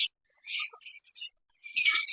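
Lovebirds, budgerigars and cockatiels in a breeding colony let out quick, bright chirps in a few short bursts, separated by near silence, with a denser flurry of calls at the end.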